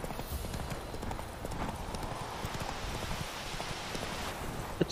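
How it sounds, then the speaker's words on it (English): Horse hooves clip-clopping in a steady fast gallop in The Witcher 3: Wild Hunt, continuous rhythmic thuds over a busy game ambience, with a brief louder knock at the end. "Go faster, horse."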